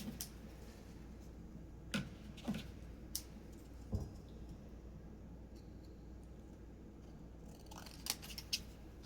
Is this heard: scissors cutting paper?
yes